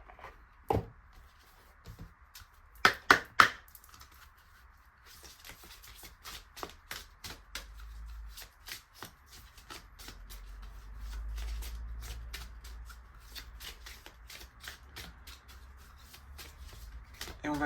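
Oracle cards are shuffled by hand behind a phone, a quiet run of rapid papery riffles and taps with a few louder clacks early on, in a calm room.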